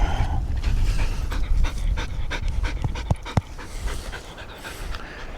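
A ranch dog on a homestead pants rapidly and rhythmically close by, the quick breaths loud and steady, with a few sharper clicks and thumps partway through.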